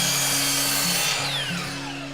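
A chop saw cutting wood freehand, with a loud steady motor whine and a high pitch that drops and shifts as the blade bites slowly into the piece, close and continuous.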